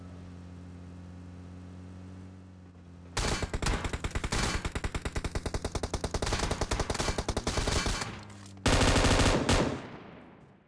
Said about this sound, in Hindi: तभी यार मेरे ऊपर फायर होता है